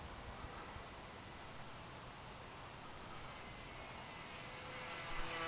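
An XK DHC-2 A600 Beaver RC airplane flying circuits, heard as a steady, thin electric motor whine over broadband wind noise that swells slightly near the end.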